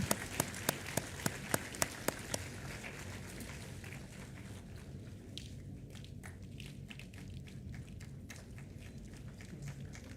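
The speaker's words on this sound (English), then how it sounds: "let us acknowledge all our distinguished awardees with a huge round of applause" Audience applause for awardees at an IIM valedictory ceremony, opening with a few sharp, distinct claps and then swelling into dense, sustained clapping from a large crowd that continues steadily throughout.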